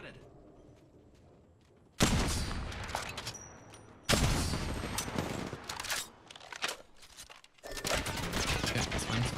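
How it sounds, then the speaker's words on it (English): Bursts of gunfire in the battle royale shooter Apex Legends, with loud sustained volleys starting abruptly and repeating over several seconds amid game noise, with a player talking over it. "I'm getting shot at"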